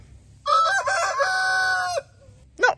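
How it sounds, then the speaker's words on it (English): A rooster crows loudly and nearby in one long drawn-out call, followed by a short cluck from a chicken. "we're going to move our lovely chicken coop and our lovely chooks from here"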